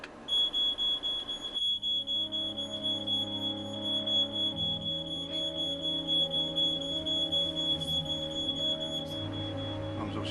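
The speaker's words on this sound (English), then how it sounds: "We let the family settle down to sleep before we set off the smoke alarm." A household smoke alarm sounds in a family home at night, a steady piercing electronic tone running continuously and loud throughout, with no talking.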